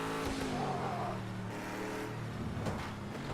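A racing video game car engine revs hard and continuously, its buzzing tones rising and falling as the car accelerates, loud and up close with no talking.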